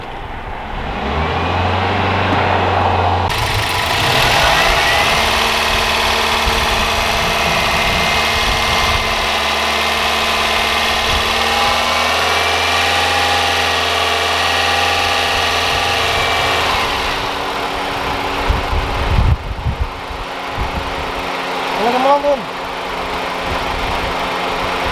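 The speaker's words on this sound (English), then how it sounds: "Once you're revving up, it increases the heat, so it's more easier to" A car engine revs steadily for a long stretch at raised speed to heat it up and bring on the cooling fan on an overheating car, a continuous loud drone that drops back toward idle near the end.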